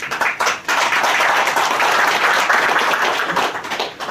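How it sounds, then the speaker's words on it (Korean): An audience at a lecture applauds steadily for several seconds, dense clapping that swells briefly then holds, fairly close and loud. "박수로 환영해 주세요."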